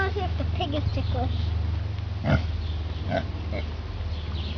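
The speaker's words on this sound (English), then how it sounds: "I want to see if the pig is ticklish." A farm pig gives close, irregular grunts and oinks through a steady low hum, with people's voices mixed in around it.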